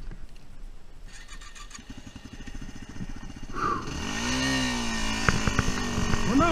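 A Yamaha WR250R dual-sport motorcycle on the Steese Highway in Alaska starts up, its engine revving loudly and climbing in pitch as the bike pulls away, close to the rider, with brief clatter before the engine catches.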